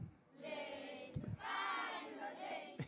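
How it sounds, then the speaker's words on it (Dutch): Sparse, scattered clapping mixed with a murmuring crowd, fairly steady and moderately loud for about three seconds. "zuinig applaus voor Thomas, hoor."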